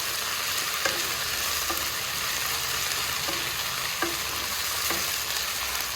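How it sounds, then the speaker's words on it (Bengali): Potato pieces frying in hot oil in a pan, a loud, dense, unbroken sizzle with a few soft knocks of a spatula as they are turned. "আলুটা জাস্ট ভেজে নেব।"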